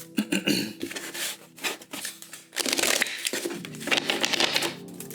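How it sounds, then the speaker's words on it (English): Close-up riffling and flicking of a tarot deck as it is shuffled again, in busy bursts of papery clatter that last a few seconds. "Spirit keeps telling me to do 4 shuffles, so I'm going to do 1 more."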